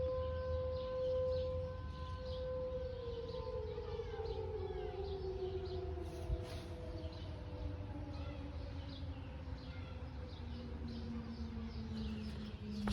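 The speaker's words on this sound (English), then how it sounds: "That siren's wind down is honestly better than the T120 on McKinley." A civil defense siren sounding for a tornado warning winds down, its steady wail sliding slowly lower in pitch over several seconds, heard from outdoors at a moderate distance.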